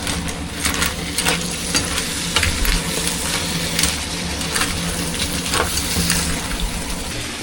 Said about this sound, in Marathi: अखेर खेकडे तव्यामध्ये पडलेत.